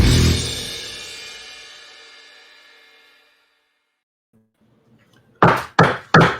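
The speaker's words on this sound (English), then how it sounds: "that loud noise is my gavel hitting my desktop" A resonant struck sound rings out and slowly decays, followed after a pause by three sharp, loud knocks of a gavel in quick succession on a desktop.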